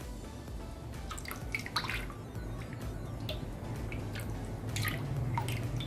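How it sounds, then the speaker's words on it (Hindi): Water trickles and drips in a thin stream while being stirred into caustic soda for homemade soap, with wet splashy bursts over a low steady hum. "आस्ता आस्ता आपने पानी को डालना है और साथ साथ मिक्स करते जाना है।"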